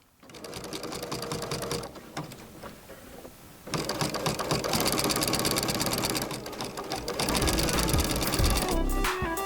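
Sewing machine stitching binding onto the edge of a quilt, a loud rapid mechanical whir that runs, halts briefly near the two-second mark, then resumes steadily to the end.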